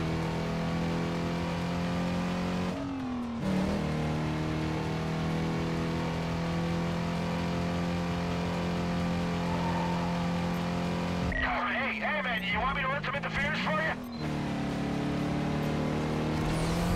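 Racing cars roar continuously in the PS2 video game Need For Speed: Carbon in career mode, with engines revving and bursts of tire squeal and skidding, while people talk over the game sound.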